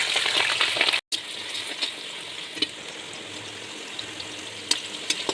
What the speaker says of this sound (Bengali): গরম হয়ে গেলে আলুগুলি ভেজে নিতে হবে।